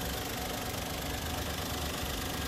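Close, steady idle of a Maruti WagonR VXI petrol engine, a constant dense rumble with faint ticking running evenly throughout, no voices.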